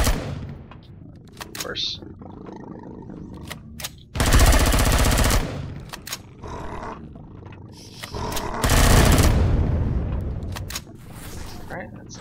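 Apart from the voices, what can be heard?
gunfire in video game Empyrion Galactic Survival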